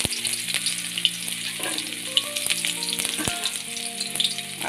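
Onions fry in hot oil with dried red chillies and bay leaves, a continuous close crackling sizzle with small pops and faint steady tones in the background.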